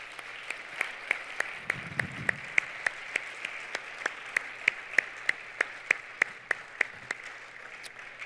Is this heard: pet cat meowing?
no